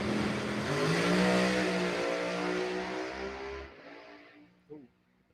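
A Pro Mod drag racing car launches down the strip at Texas Motorplex with a loud, sustained engine roar that fades into the distance after a few seconds.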